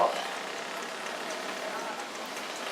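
Steady rain falls outdoors in the evening, a continuous even hiss with no pauses throughout.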